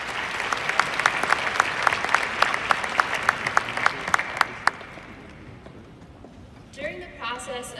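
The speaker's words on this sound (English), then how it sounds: "So please, give yourselves a round of applause." At a December 2018 University of Maryland College of Behavioral and Social Sciences graduation, the audience claps in a lively rhythm for several seconds before fading, then a speaker's voice begins.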